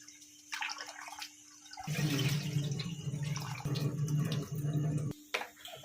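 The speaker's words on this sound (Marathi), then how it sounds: "भात लावायचा आपल्याला स्वच्छ धुवायचं तीन पाण्याने" Rice is rinsed with water for varan bhat: a few light clinks, then water pours and swishes close by in a steady stretch before cutting off, followed by a few faint handling sounds.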